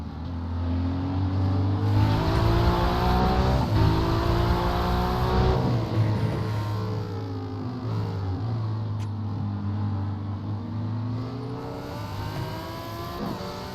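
Race cars, Ferraris, BMWs and Porsches, roar through a Bathurst 12-hour race in iRacing, engines droning steadily and loud with rising and falling pitch as they rev and shift, several cars overlapping throughout.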